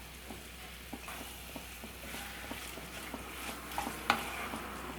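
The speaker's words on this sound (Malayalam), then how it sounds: "അതിനുശേഷം ഒന്ന് നന്നായിട്ട് മിക്സ് ചെയ്ത് കൊടുക്കുക" A spoon stirs sautéed mixed vegetables in a pan while cooking veg kolhapuri, giving faint intermittent scrapes and light taps over a soft, steady sizzle, close and quiet, with no speech.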